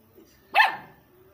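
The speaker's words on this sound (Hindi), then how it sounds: "इसको देख के बार बार भौंकी जा रहा है" A single sharp dog bark rings out nearby, one short loud burst over a quiet background.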